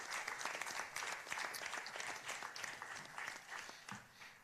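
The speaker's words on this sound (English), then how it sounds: "Let's give her another round of applause, man." Audience applause in a conference room at a music-industry intellectual property event, steady dense clapping from many hands, fairly close and sustained throughout with no voices.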